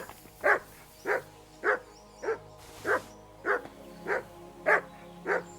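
A dog in the video game Kingdom Come: Deliverance II barks nine times in a steady rhythm, about one bark every half second, clear and moderately close.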